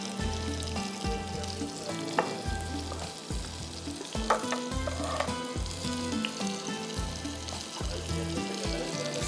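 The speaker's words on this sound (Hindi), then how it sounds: "ऑयल लगा के इसको फ्राई करते हैं" Chapatis frying in oil in a pan for a Desi mutton dum gosht meal, a steady close sizzle with occasional clinks and stirring scrapes, no voices.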